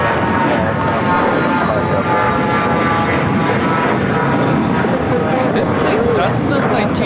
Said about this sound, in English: Cessna Citation Latitude taking off to Toluca